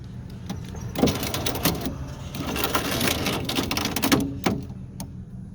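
A faulty power window regulator motor in a 2005 Ford Focus grinds and whirs steadily for several seconds, close up, with rattling clicks running through it.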